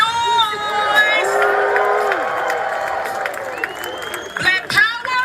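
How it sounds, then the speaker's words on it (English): A rally crowd at a reparations event at Morgan State University cheers, whoops and shouts at full volume, with scattered clapping and rising, drawn-out yells layered over a continuous roar. "Come on, FBA. Make some noise!"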